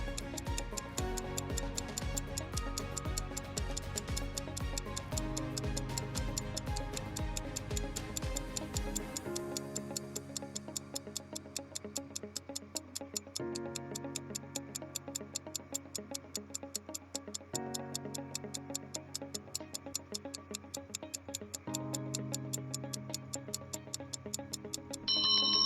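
A timer clock ticks steadily and evenly throughout, a crisp continuous tick-tock over a soft musical bed that changes partway through.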